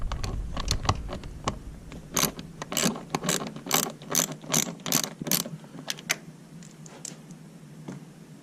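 Ratcheting as a wrench loosens fasteners on the air filter cover of a 2014 BMW R1200GS motorcycle, close and crisp, rapid clicking in several bursts with short pauses between.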